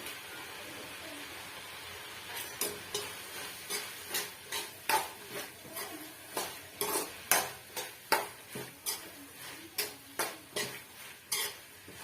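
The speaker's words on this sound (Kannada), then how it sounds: "ಕಾಯಿ ತುರಿ ಹಾಕೋತಾ ಇದ್ದೀನಿ" A spoon scrapes and taps steadily in a pan as grated coconut is stirred into drumstick-leaf palya, a regular rhythm of soft metallic strokes with faint sizzling underneath.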